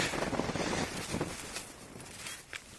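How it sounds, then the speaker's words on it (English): Gusty mountain wind buffeting the microphone during a paragliding flight near Harman Pass and Mount Campbell in New Zealand, a steady rushing roar with uneven surges and no talk. "all of a sudden the wind started coming up the shady side"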